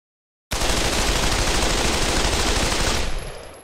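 An M4 rifle in the Pavlov VR shooter fires one sustained automatic burst lasting about two and a half seconds. It is loud, dense and close, with nothing else heard and a brief tail as it stops.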